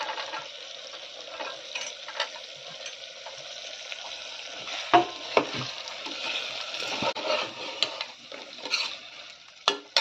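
Carrots, beans and peas for a vegetable biryani fry in a pan with a steady soft sizzle, broken by the scrape and clink of a spoon stirring at close range, with no talk.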